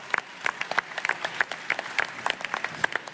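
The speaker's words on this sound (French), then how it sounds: "Très bien, merci de les applaudir, mesdames, messieurs." An audience at a French tech event applauds, a dense, lively round of clapping with distinct individual claps popping out in a quick irregular rhythm throughout.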